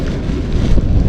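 Strong wind gusts across an old fishpond beside a wall, hitting the microphone as a loud, low, rumbling roar.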